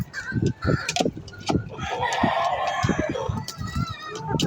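Chickens, including hens, cluck in busy, overlapping bursts while a rooster crows, loud and close, with farmyard chatter continuing throughout.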